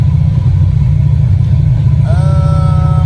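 A Starquest car engine runs loud and steady during tuning, with a low rumble throughout and a rising whine swelling in near the end as it revs.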